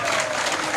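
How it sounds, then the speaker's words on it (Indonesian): A church congregation claps for God during a Christmas service, a dense, steady wash of hands held at one level for the whole brief moment. "Tepuk tangan untuk Tuhan."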